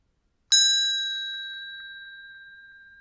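A single temple bell struck once for the fifth night watch, a bright metallic strike followed by a long, clear ringing tone that slowly decays, alone in silence.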